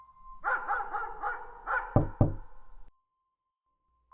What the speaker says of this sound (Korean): 아무도 없던 허공에서 똑똑 하고 소정이네 방문을 노크하는 소리가 납니다.